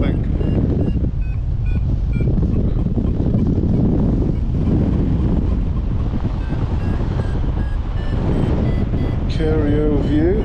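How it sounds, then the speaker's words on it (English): Strong wind buffets the microphone while paragliding over Kerio Valley, Kenya, a loud continuous low rumble throughout, with faint beeps from a flight instrument toward the end. "I've got, I don't know, wind which is just about on the hill"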